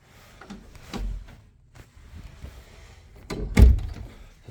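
A residential house door to the outside is opened and shut, giving a soft thunk early on, quiet handling, then a loud close near the end, with no talk.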